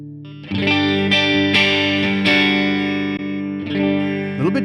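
Through a Tonex capture of a Boogie California Tweed 6V6 amp on the normal input, an electric guitar rings out a sustained, lightly overdriven chord with a few restrikes and a closing slide, loud and close, no speech.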